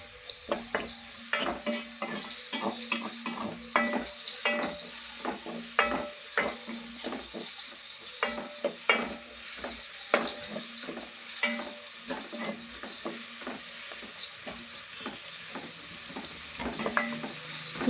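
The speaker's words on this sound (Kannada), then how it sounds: "ಒಂದು ಕಟ್ ಮಾಡಿಟ್ಟಂತಹ ಈರುಳ್ಳಿ ಹಾಕ್ಕೊಂಡು ಚೆನ್ನಾಗಿ ಫ್ರೈ ಮಾಡಿ" Chopped onion with curry leaves fries in a pan, a steady close sizzle under frequent rhythmic spatula scrapes and metallic clinks against the pan.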